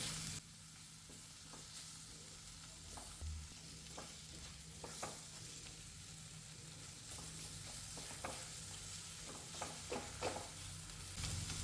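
Chopped tomato sizzles in a hot pan for a Kerala-style kadachakka (breadfruit) curry, a steady frying hiss throughout with several light scraping clicks as it is stirred, close and moderately quiet.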